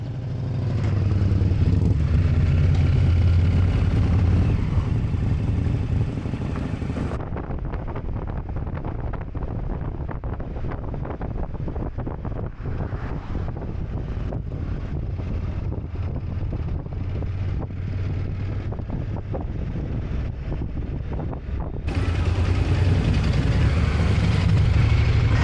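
A motorcycle ride heard from the bike itself, with constant loud wind buffeting the microphone over a steady engine drone that holds evenly throughout and eases briefly in the middle stretch.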